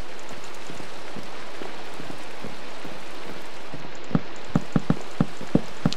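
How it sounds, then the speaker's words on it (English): Minecraft rain falls as a steady, even hiss, with a run of sharp clicks near the end from the game or the keyboard. "Okay, it started raining"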